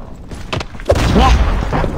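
Gunfire in the mobile video game Call of Duty Mobile, a few sharp booming shots followed by a sustained rumble and whooshing game effects, loud and close.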